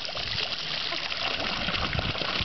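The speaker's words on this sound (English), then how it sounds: "playing in the water fountains of Europe" A child splashing in a public water fountain in Europe, with steady rushing and spattering water filling the scene continuously and loudly, and faint voices mixed into the spray.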